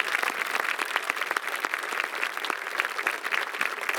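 Audience applause at a 2022 high school graduation ceremony, a steady, dense clapping from a large crowd filling the whole stretch at even loudness, with no voices over it.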